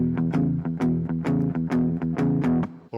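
Electric guitar playing the shuffle riff from a blues instrumental with accents on the downbeat, a short, bouncy, swung pattern of close, clean notes, alone.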